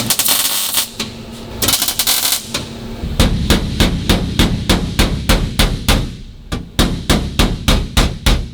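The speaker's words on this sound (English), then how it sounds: "Why do you hammer it? Just to get your edges in nice and tight before you weld it." Hammer striking sheet metal floor pan edges before welding, loud sharp metallic blows, first in a dense cluster, then a steady evenly spaced rhythm of about twenty close strikes.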